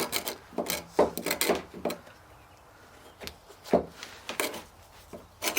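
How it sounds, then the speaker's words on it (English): A card scraper drawn across a wooden board makes close, scratchy rasping strokes in quick bursts separated by brief pauses, with no voices. "You can use a card scraper to clean that up a bit."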